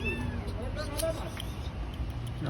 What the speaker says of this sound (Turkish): Küçücük kedi ya.